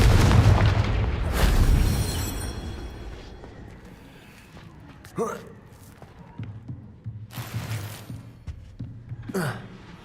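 A Confringo fire spell in the video game Hogwarts Legacy bursting in a loud boom with a rumbling tail, followed by several sharper magical impacts and cracks mixed with game effects.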